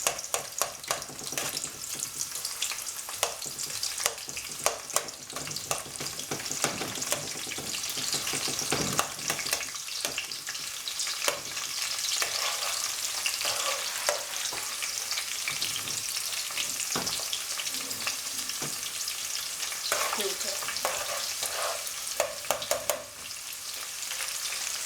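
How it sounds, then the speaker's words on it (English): Onion frying in hot oil in a pan while cooking vegan efo elegusi, a loud, steady sizzle with crackles and occasional stirring clatter that runs unbroken for the whole stretch. "add in my onion and let him fry a bit."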